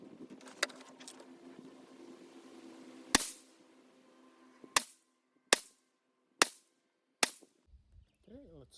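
Five sharp, close rifle shots from a Smith & Wesson M&P 15-22 firing Stinger rounds, spaced unevenly about a second apart with quiet gaps, preceded by faint handling clicks and followed by a short soft voice.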